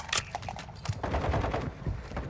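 Rapid automatic gunfire with armor-piercing rounds in Call of Duty DMZ, a dense burst of close, punchy shots over about two seconds.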